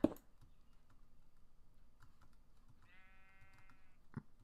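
A sheep bleats in the Minecraft video game, one faint, distant wavering bleat lasting about a second, among soft keyboard typing clicks in a quiet room.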